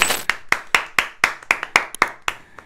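Clapping for a guest arriving at a Dominican trap interview: a run of about a dozen sharp, evenly spaced handclaps, close and fairly loud, like a few people clapping.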